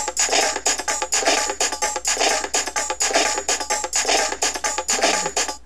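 A punchy sliced drum loop at 125 BPM, made in Fruity Loops 8, plays in a steady, repeating pattern of sharp hits and snappy transients, loud and close with no voices.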